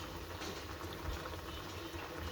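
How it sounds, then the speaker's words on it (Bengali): Chicken boils in a pot, a steady dense bubbling and simmering hiss heard close and continuous with no voices. "দেখো চিকেনটা ফুটে এসছে।"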